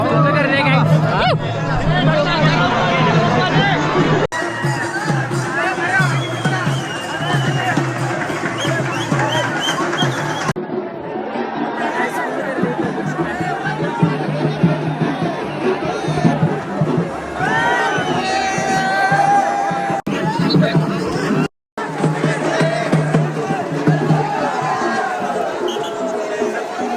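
Thick, continuous crowd babble fills the Tuljapur temple grounds during Navratri, with close voices, occasional cheers and a brief dropout near the end.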